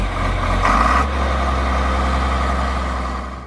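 A John Deere 4440 tractor's 6.6-liter 466 diesel engine idles steadily up close, a deep even rumble with a brief brighter swell early on before settling back to a constant drone.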